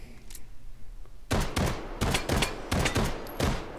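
A P08 Luger pistol with a toggle-lock action firing 9x19mm Parabellum rounds in a VR shooting game: five loud, close, evenly spaced shots after a quiet opening.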